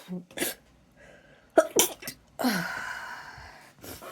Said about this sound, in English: as I went to pause the camera I sneezed again